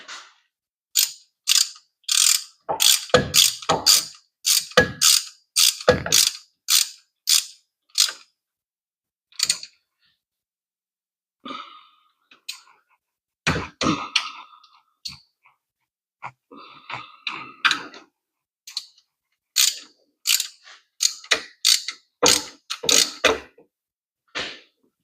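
A ratchet tightening a bolt on the 3.8 engine of a 2006 Buick Lucerne during a coolant leak repair, making quick, close clicking runs in bursts separated by quiet pauses.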